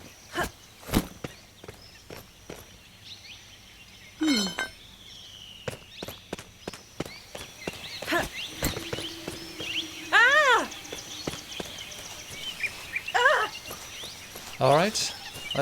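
Video game sound effects built in FMOD: sharp clicks and clinks, short chirpy gibberish vocal blips, rising tonal chimes and thuds, scattered irregularly across a quiet background.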